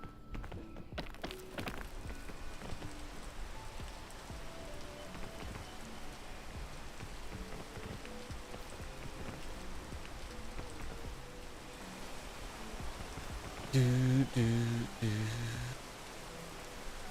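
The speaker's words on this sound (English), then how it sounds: "Go away, rain." Steady rain hiss in a video game, continuous across the scene with a brief burst of louder tonal game sounds near the end; no speech over it.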